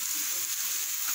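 Steady sizzle of vegetable fried rice frying in a pan as carrots go in, a continuous bright hiss with no talking over it.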